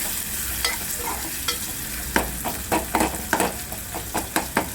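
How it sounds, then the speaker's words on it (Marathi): Onion and tomato fry in a pan with a steady close sizzle, while a spoon scrapes and stirs in a run of repeated strokes that grow more frequent toward the end. "कांदा टोमॅटो भाजते, त्यामध्ये आपला लाल तिखट मसाला टाकायचा।"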